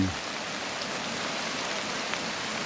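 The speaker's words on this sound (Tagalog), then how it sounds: "Tuloy-tuloy ang ulan. Mula kaninang umaga." Steady, heavy rain pours without pause on a mountaintop, a dense wash of hiss close by with no voices.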